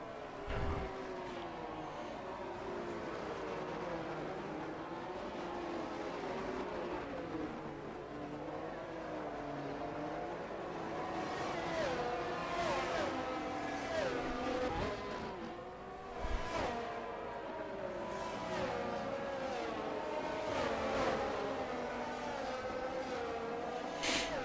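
Race cars roll through a formation lap at Bahrain in a racing video game, a steady droning engine tone that wavers and shifts pitch as cars run in a pack, with occasional sharper blips and revs.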